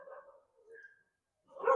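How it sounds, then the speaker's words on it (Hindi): Dogs bark in three separate bursts, moderately loud and fairly near, with the last burst the strongest. "यहाँ पे डॉग भौंक रहे हैं"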